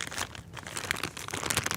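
Close, continuous crinkling and rustling of a plastic bag, busy and uneven, with no talking.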